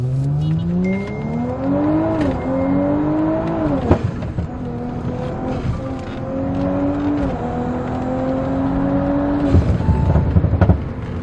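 A TTE810-turbo Audi B9 S5 Sportback accelerates hard, its engine note climbing through gears with brief drops at each shift, loud and continuous for the whole stretch.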